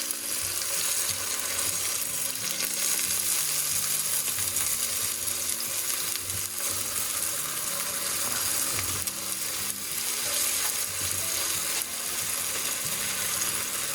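Tofu sizzling and frying in a hot wok for a stir-fry, a steady dense crackle that stays loud and even throughout with no voices.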